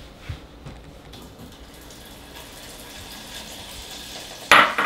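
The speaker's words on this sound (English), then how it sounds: "Now we're gonna move away from the stove, and I'll add the butter to it" Butter dropped into hot melted sugar caramel, a low, steady sizzle and bubbling that runs for several seconds, ending in a sudden louder burst of hiss and clatter.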